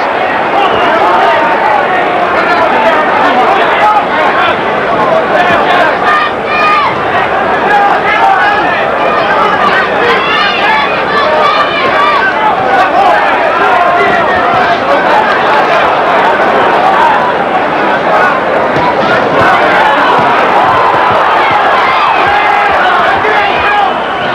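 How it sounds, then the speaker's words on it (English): A boxing arena crowd roars continuously and loudly throughout a heavyweight fight, a dense wash of cheering and shouting with a commentator's voice mixed in. "Crowd rising to that"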